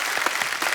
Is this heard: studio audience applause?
yes